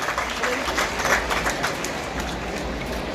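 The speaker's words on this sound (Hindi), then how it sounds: "एक बार जोरदार ताली बजाकर हमारे छात्रों का हम स्वागत करते हैं" Loud, sustained applause from an audience at a college annual function in Rajnandgaon, a dense even wash of clapping welcoming students that holds steady throughout.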